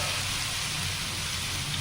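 Fish frying in oil in a pan, a dense continuous sizzle like steady rain, close and even throughout.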